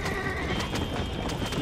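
A horse in the video game Red Dead Redemption gallops with rapid, rhythmic hoofbeats and lets out a neigh, close and loud over game background sounds.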